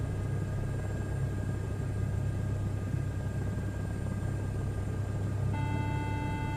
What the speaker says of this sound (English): There's the low rotor horn.